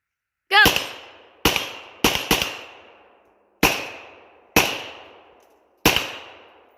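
An AK556/ARK rifle from Palmetto State Armory fired outdoors: seven sharp, loud single shots at irregular spacing, two coming in quick succession, each with a short decaying echo, no talking between them.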